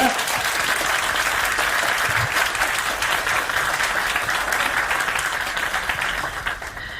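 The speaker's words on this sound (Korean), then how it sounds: "우리 대학생들의 젊은 뜨거운 박수로 함께 환영해 주시기 바랍니다" University students at a forum applaud to welcome lawmakers, a dense, sustained round of clapping from a large crowd that fades slightly toward the end.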